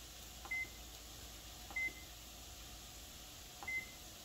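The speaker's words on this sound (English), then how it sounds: "Okay, timer. So 20 minutes." A kitchen timer beeps three times while being set for twenty minutes, short evenly spaced electronic beeps over a faint steady background hum.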